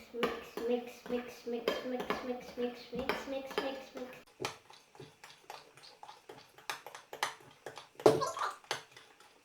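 Fluffy slime is stirred in a bowl, a utensil clinking and scraping against the sides in quick irregular strokes, with a person talking over the mixing.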